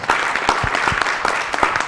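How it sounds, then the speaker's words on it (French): A studio audience on a TV talk show applauds, brisk dense clapping with sharp individual hand claps standing out, close and steady throughout the short burst. "on s'ovationne, on s'applaudit bien fort"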